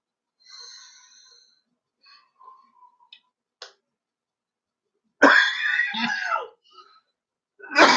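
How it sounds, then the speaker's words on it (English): A loud, harsh cough bursts out after a few faint ticks and clicks, followed by another cough at the very end. "This cough isn't inhaler type"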